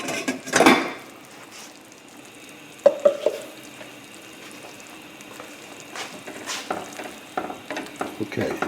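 Broccoli dropped into a hot frying pan alongside shrimp chow mein, a sudden burst of sizzle followed by steady frying crackle and occasional pan clatter, with no talk.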